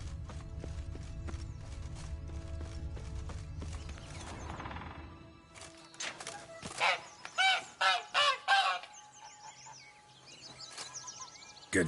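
Goose honking in The Witcher 3, a run of loud, close honks in quick succession over background game ambience with faint clip-clop.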